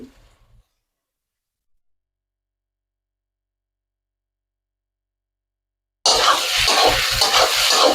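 Cauliflower florets for gobi rice tumble into a hot pan at home and start sizzling loudly, with a steady frying hiss and stirring scrapes after a long silence.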